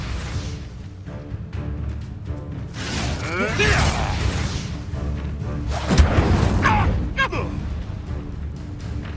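An Incendio fire spell cast during a fight in Hogwarts Legacy gives loud whooshing bursts and deep booms, with clattering impacts and shouted voices mixed into the combat noise.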